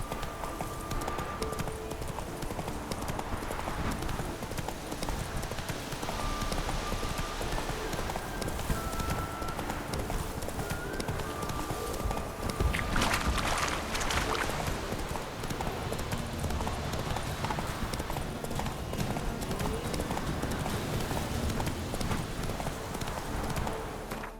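Roach, a horse in the video game The Witcher 3, gallops with steady, loud clip-clop hoofbeats that run continuously, with a short burst of added noise midway.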